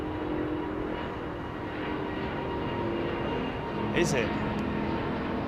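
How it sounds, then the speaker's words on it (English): A Finnair Airbus A350 climbs overhead at London Heathrow, its engines a steady rumbling roar that swells slightly toward the end, with a short spoken remark over it. "Finnair's 350 going up over the top."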